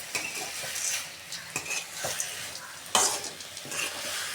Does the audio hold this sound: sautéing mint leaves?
yes